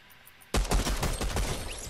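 Gunfire in the video game Fortnite bursts in after a quiet moment: a loud, rapid volley of shots that keeps going with no talk over it.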